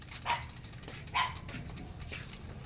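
A dog barks two or three times at a distance during an early morning commute ride, sharp yips over a steady low rumble of bike and road noise.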